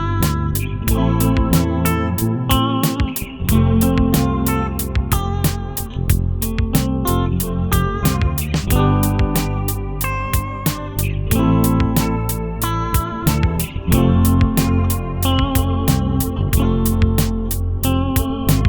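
Guitar solo mixing pentatonic scale notes with chord triads over a full backing track with steady percussion, melodic lines weaving continuously and loudly above the rhythm, no speech.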